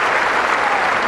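Tennis crowd at Wimbledon clapping and cheering between points in a 2008 women's match, a dense, steady wash of applause filling the whole brief moment with no talk on top.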